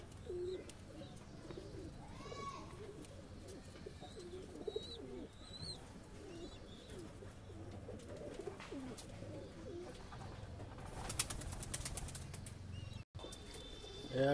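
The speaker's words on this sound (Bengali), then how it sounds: "একটা এবারে বন্ধুরা কিছু ম্যাড্রাস পায়রা দেখাই" Madras pigeons in a home loft coo in low rolling calls, with bursts of wing flapping and a few chirps, fairly faint and close, with soft rustling and ambient noise around them.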